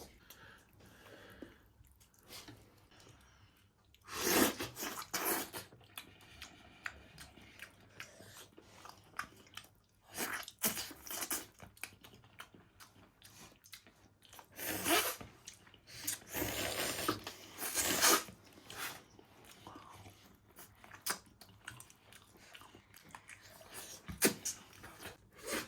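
Close, wet chewing and biting on soft braised lamb spine bones in sauce, coming in irregular squishy bursts with quiet pauses between, no talk over it.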